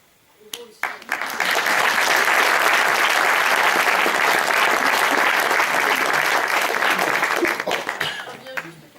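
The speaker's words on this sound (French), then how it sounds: "Vous pouvez vous applaudir, et vous aussi." An audience bursts into sustained, dense applause after a theatre comedy performance, swelling quickly and holding steady for several seconds before tapering off, with a voice speaking briefly at the start and end.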